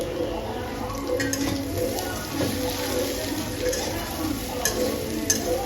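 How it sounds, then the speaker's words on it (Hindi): Potatoes stir-fried over medium-high flame for aloo bhujia, a steady low sizzle with intermittent scraping and clinks of a spatula against the pan, close and constant. "मैं मीडियम से थोड़ा सा हाई फ्लेम रखती हूँ और पूरे टाइम ऐसे ही आलू को कुक करती हूँ"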